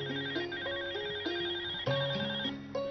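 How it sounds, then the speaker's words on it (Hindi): A phone ringtone plays a repeating electronic melody of bright tones in a steady looping pattern, loud and clear with no voices over it. "अरे, ये फोन तो राजेश का है।"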